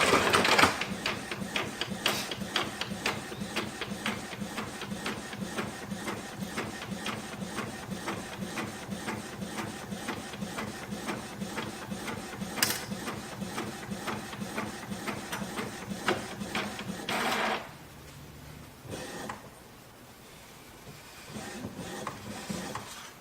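An inkjet printer printing a transfer sheet for Cricut print and cut, with a fast steady mechanical chatter and whir of the print head running close for about seventeen seconds, then quieter clicks and shuffling as it finishes.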